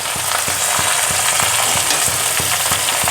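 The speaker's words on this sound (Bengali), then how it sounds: "দিয়ে এটাকে আমি ভালোভাবে নাড়াচাড়া করব।" Cane jaggery and pieces of chalta fruit are stirred in a pan, a soft continuous sizzle under regular scraping strokes of a spoon, about three per second, close and fairly loud.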